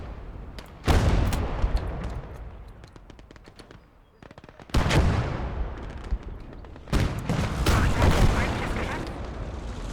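Heavy gunfire and loud cannon blasts from a tank firing an armor-piercing shell in the Eastern Front WWII game Gates of Hell, three sharp booming shots with rattling fire and rumbling decay between them.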